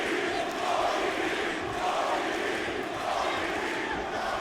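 A wrestling arena crowd at AEW All Out in Chicago roars on its feet, a steady, distant wash of cheering and shouting voices with no individual words.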